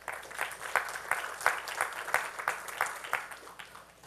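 A conference audience at a cloud computing expo general session claps for a speaker who is being introduced, a steady round of applause with a few distinct louder claps rising through the crowd, heard from a distance in a large hall.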